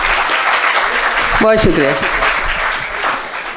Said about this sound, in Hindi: सुनिएगा, एक बार ज़ोरदार ताली बजा दें।